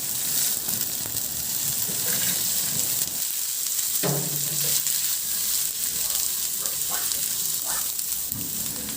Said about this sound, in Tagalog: at igisa ko na rin yung bawang. Ilagay ko na rin yung sibuyas.